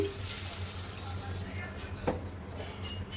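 A little water poured over ginger and garlic frying in oil gives a soft, low sizzle and hiss, with a brief splash about two-thirds of the way through.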